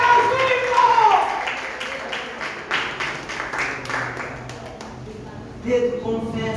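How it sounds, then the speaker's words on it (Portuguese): A church congregation applauds, a spread of hand claps rattling for several seconds before fading, with a preacher's voice speaking over the start and end. "Você pode aplaudir a Jesus Cristo."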